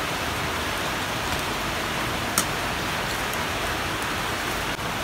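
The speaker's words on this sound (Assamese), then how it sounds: "কিনকিনীয়া বৰষুণ দি আছে ইফালে" Light drizzling rain falling outside, a steady even hiss with a couple of faint isolated ticks, low in level and continuous with no voices.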